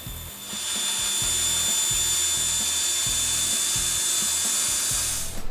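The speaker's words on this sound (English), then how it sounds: "I'm just going to cut them out on the bandsaw." A bandsaw cuts through a stack of sandpaper sheets held together with carpet tape, giving a steady, loud, hissing whine throughout, with a low rhythmic pattern running underneath.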